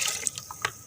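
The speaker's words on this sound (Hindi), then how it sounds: "अब इसमें थोड़ा सा पानी डालेंगे" Water poured into sour lassi in a cooking pot in a home kitchen while making kadhi pakora: a few brief, close splashes and trickles over under a second, with no talking.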